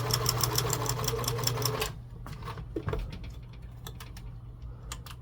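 A Kenmore 158.13511 sewing machine with a walking foot and a heavy-duty size 18 needle stitches upholstery with polyester thread, running with a rapid, loud mechanical chatter, then stopping and leaving scattered clicks and light handling noises.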